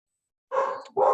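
Pet dogs bark indoors: two sharp, loud barks in quick succession after a moment of silence.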